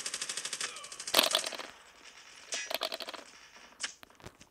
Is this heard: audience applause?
no